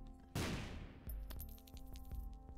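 A bomb goes off in The Binding of Isaac, a sudden sharp burst that trails into rumbling debris, followed by a second thump and scattered clicks from the game, fairly quiet overall.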